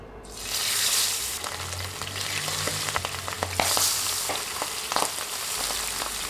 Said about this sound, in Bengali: এরপর মশলা মাখানো মাছগুলো দিয়ে দিচ্ছি